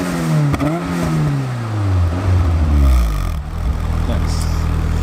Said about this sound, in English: You gotta hear this exhaust